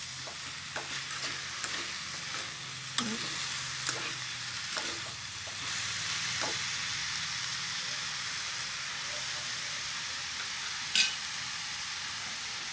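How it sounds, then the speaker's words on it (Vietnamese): Vegetarian rice vermicelli with mushrooms stir-fries in a pan, a soft continuous sizzle under scattered clinks and scrapes of a utensil tossing the noodles, with one sharper knock near the end. "Bây giờ mình sẽ trộn nó lên nha các bạn"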